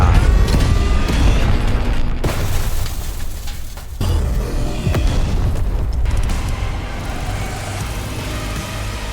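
The boss Eradicator MKII is destroyed in the video game TDX, with loud booming explosions and heavy rumbling impacts, sharp blasts recurring over a continuous dense roar of game effects.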